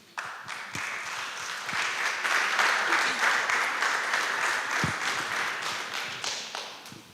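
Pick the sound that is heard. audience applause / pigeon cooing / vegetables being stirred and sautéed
audience applause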